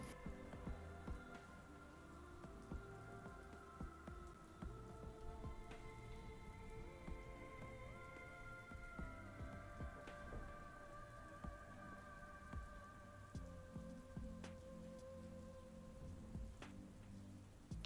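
Rain ambience for a fantasy tabletop adventure scene: a soft, steady patter of rain on surfaces, quiet and continuous, with occasional sharper drops and faint tonal music layered underneath.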